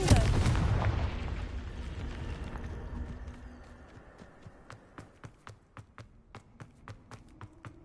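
A Confringo blasting spell bursts in Hogwarts Legacy with a loud booming blast that rumbles and fades over several seconds, followed by a run of sharp, evenly spaced taps or impacts.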